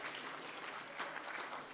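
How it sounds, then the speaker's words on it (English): Audience applause at a morning session of a spiritual emphasis week, a brief, even wash of clapping heard at moderate distance with no talk over it. "Can we give them a round of applause?"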